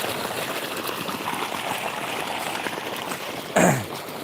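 Water flows into paddy nursery beds in a field, a steady close rushing trickle that runs continuously, with one brief louder knock near the end.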